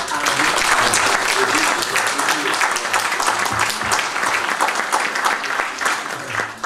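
Conference audience applauding, a dense sustained round of clapping from many hands filling the room for several seconds, fairly loud and steady, with a voice speaking faintly underneath.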